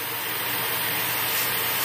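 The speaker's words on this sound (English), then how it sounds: "This vacuum right here is badass. This is the Shark Navigator." Shark Navigator vacuum cleaner running, a steady loud broadband whoosh with a high whine, close and continuous throughout.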